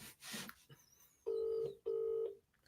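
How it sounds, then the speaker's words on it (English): Two long electronic ring tones sound one after another, loud and close, after a brief burst of noise at the start. "It's ringing."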